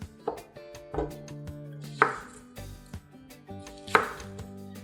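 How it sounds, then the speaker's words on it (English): Knife chopping peppers and onion roughly on a board for chutney, with five sharp, evenly spaced cuts close by and a low resonant thud under each stroke. Nobody speaks. "Just chop everything roughly, because we're gonna blend all of this."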